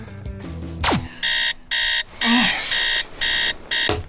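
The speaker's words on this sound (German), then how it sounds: "die 20 Wecker stellen, um aus dem Bett zu kommen" An alarm clock beeps in a steady series of loud, evenly spaced electronic pulses, following a brief burst of other noise.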